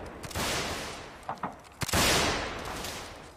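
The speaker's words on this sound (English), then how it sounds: "Listen to those rifle firing." Rifles fire in a Mount & Blade North & South line battle, a dense volley of overlapping gunshots in two loud bursts with a few scattered single shots between them.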